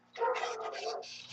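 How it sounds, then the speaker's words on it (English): A dog barks in a rough, drawn-out burst, fairly close and loud, with no talking during it. "Shut up, dog."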